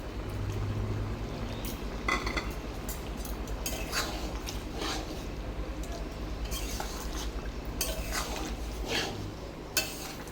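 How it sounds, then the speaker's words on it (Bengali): Fried prawns being stirred into a curry with jackfruit in a pan, with a steady sizzling bed, a continuous low hum, and repeated soft scrapes and clinks of the spoon throughout. "চিংড়ি মাছটা দিয়ে আমি ভালো করে নেড়ে নিলাম।"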